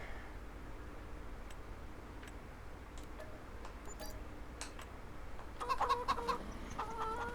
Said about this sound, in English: And we are just going to get the baby chickens.